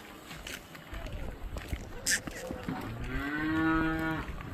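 Cattle at a farm sale in Maharashtra, where a heifer is offered: a cow gives a long, moderately close moo near the end, preceded by rustling, scattered knocks and background voices.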